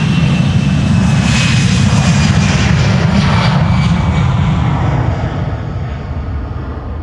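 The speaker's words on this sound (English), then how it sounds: "Aer Lingus flight 603 to Dublin, Ireland, A320 on its way" An Aer Lingus Airbus A320 jet takes off from Amsterdam Schiphol Airport, bound for Dublin, with a loud, steady broadband engine roar heard up close that eases slightly near the end, with no voices.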